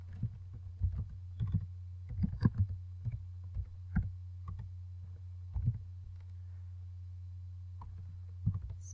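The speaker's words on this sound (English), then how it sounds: "Let's see if I can type that out for you." Soft, faint keystrokes on a computer keyboard tap out a word in irregular clusters over a steady low hum, with no talking.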